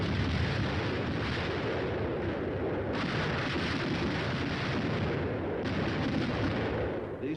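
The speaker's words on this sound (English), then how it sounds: "The air bursts fired by a battalion of 105mm howitzers present a lively show." Continuous heavy rumble of air bursts from a battalion of 105mm howitzers, loud and sustained, with blasts merging into a dense roar.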